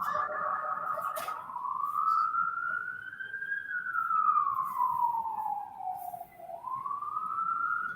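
A siren wails outside a kitchen, sweeping up and down in long slow glides at steady moderate loudness. It stays alone across the stretch with no talk over it.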